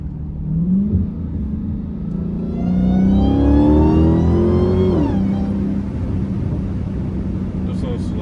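An 800 hp Hellcat accelerating hard from inside the car, its engine note climbing steeply through a long rising pull before easing off, loud and close with a steady rumble underneath.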